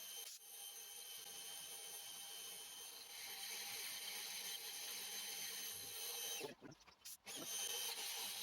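A drill cutting a tapping-size hole in metal on a small lathe or machine setup, a steady high-pitched whine with mechanical rattle running continuously, briefly dipping and cutting out near the end.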